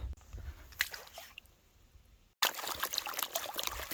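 Clean water poured and sloshing while panning for gold near bedrock, a close trickle that fades, then a sudden louder splashing pour after a short gap, with no talk.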